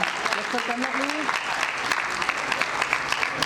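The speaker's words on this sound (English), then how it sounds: "You all are requested to give a big round of applause for them." Audience applause at a school annual function: steady, fairly loud clapping from a crowd throughout, with a voice speaking briefly over it early on.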